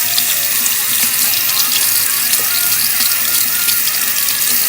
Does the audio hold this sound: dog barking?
no